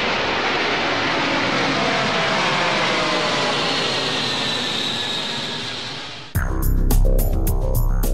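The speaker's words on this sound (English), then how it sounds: "the Antonov An-225" Antonov An-225 cargo jet, the world's largest aircraft, its engines giving a loud, steady, broad roar for about six seconds that slowly softens before cutting abruptly to a different, choppier sound.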